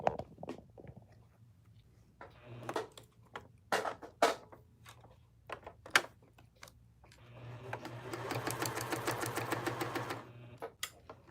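A sewing machine stitches ribbon onto a taggie blanket; scattered clicks and handling knocks lead into a steady, close mechanical whir of rapid stitching lasting a few seconds before it stops, then more sporadic taps.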